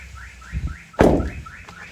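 A nearby parked car's alarm chirps in a repeating rising electronic pattern, sounding several times across the clip, with a sharp thump like a door or impact in the middle; no voices.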